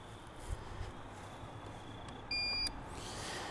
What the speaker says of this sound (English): if you can silence the beeps on the UPS